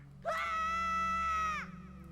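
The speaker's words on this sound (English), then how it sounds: "I swear, if I hear Scooty scream one more time" A cartoonish character scream from The Legend of Zelda: The Wind Waker, one sustained, high, tonal shriek lasting over a second with a quick rising onset and falling end, loud and alone over a low game background hum.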